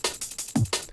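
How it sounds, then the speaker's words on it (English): Dry drum break sample with no effects: crisp hi-hats and snare hits in a quick jump-up drum and bass rhythm, with one heavy kick in the middle, close and clean. "Lovely sounding drum break"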